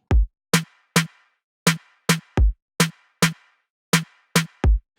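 Sharp, snappy hits of a drum machine clap stacked with a snare, striking in an uneven rhythmic pattern, with a couple of deeper kick thumps mixed in.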